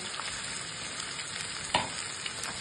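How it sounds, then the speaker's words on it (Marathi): Ivy gourd (tondli) sautés in oil with a steady, fairly quiet sizzle, and a single short clink or scrape of stirring stands out partway through; no one talks. "आणि व्यवस्थित 2 मिनिटं त्याला तेलात परत परतून घ्यायचं।"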